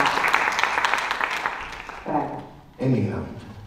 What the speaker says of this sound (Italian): È un applauso per questa riflessione